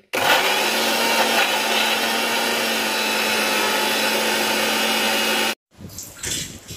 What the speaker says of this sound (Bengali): মিক্সার গ্রাইন্ডারে আমার পেস্ট করা হয়ে গেছে।